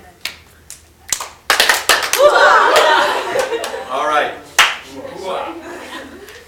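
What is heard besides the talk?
group clapping together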